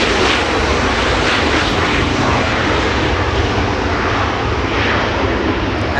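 An Airbus A380 airliner taxiing close by on a taxiway at Los Angeles International Airport, its engines giving off a loud, steady roar that fills the whole span with no talking.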